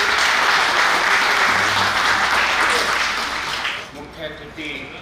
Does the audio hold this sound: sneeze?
no